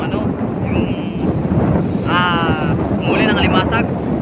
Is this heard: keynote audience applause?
no